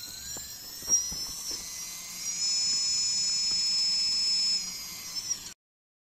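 Brushless motor driven by an ESC spinning up, a high steady electronic whine that holds for a few seconds with faint clicks beneath, then stops abruptly.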